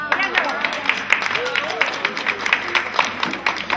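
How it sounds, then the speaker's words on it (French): Applause at a French community intergenerational gathering in Dinant, steady crowd clapping close by with voices and cheers mixed in throughout. "Et un gros applaudissement pour Madame Adam."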